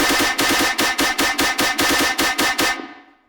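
A gun sound effect in an electronic track, firing in a fast, evenly spaced burst of about a dozen loud punchy shots before cutting off with a short decaying tail.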